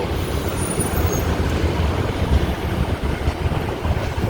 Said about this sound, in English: We have only less of the traffic at this time already, because it's already past 7 p.m.